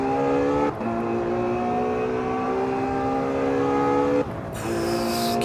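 A Ferrari 812 Superfast V12 in the racing game Assetto Corsa holds a loud, steady high-pitched engine drone, with two brief dips at gear changes before it climbs again; no one speaks.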